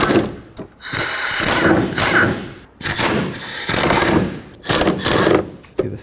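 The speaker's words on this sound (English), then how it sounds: "Take out these three bolts on the driver's side." Hand tools working on the fan shroud bolts of a Chevrolet Express van, a series of close, loud clanking and rattling bursts broken by short pauses, with no talk.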